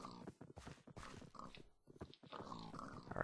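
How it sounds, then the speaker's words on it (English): Several pigs grunt and oink in TerraFirmaCraft as they are let loose from a pen, a busy run of short snorts and squeals close by that overlap one another for a few seconds. "I'm gonna set the pigs free here."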